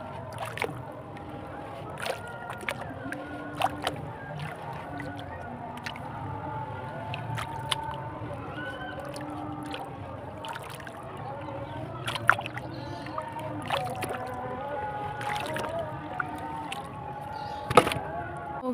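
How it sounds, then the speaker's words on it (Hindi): Cement and mud are mixed by hand in water, giving continuous wet squishing, sloshing and dripping with occasional sharper splashes, close up, while someone talks intermittently. "इसको अच्छे से मिक्स करना, हाथ से टाइम ही है, मैं हाथ से कर देती हूँ जल्दी से मिक्स"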